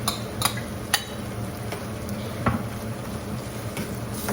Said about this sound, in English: And just stir that, mix it all together